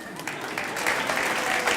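A church congregation breaks into applause, scattered clapping swelling into a fuller, steady burst that fills the room.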